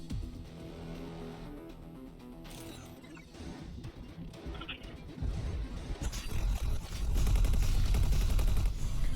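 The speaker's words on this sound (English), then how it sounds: "the missiles in action" Missiles launching from a Peregrine bomber in the space game X4 Foundations, quiet mechanical clatter at first, then a rising roar of rapid firing and rumbling blasts that grows loud toward the end.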